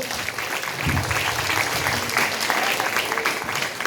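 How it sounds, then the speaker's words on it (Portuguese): A church congregation applauds during an evening service, producing a full, steady clatter of many hands clapping that holds at a strong level from start to finish, with a few louder accents mixed in. "Você pode aplaudir o Senhor?"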